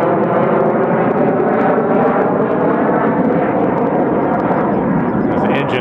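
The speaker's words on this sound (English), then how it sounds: "engines sound like they're military surplus. They're freaking loud enough." A commercial airliner at Austin-Bergstrom airport roars with loud, constant jet engine noise, close and overpowering, a thick droning rumble that holds steady throughout.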